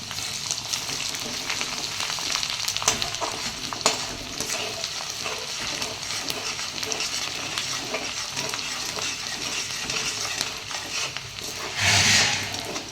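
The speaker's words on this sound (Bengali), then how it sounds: "রসুন কুচিগুলো দিয়ে দিলাম এবার এটাকে একটু নাড়বো চাড়বো" Chopped garlic sizzling in hot oil in a pan while being stirred, a continuous frying hiss with scraping stir strokes and a brief louder burst near the end, no one speaking.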